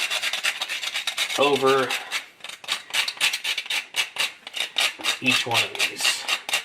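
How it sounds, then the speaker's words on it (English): A fresh cinnamon stick is rubbed gently across a kitchen grater, giving a steady run of quick, close rasping strokes, with a voice speaking over part of it. "take our cinnamon and our grater and just very gently grate some fresh cinnamon"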